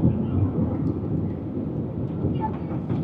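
A heavy, continuous low rumble fills the scene as a train rolls past below in Tashkent, Uzbekistan, steady and fairly loud throughout.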